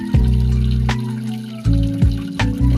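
A strong water filter pump gushing into a 100-gallon tank, a loud steady rush of water with a low hum and a few sudden surges and splashes.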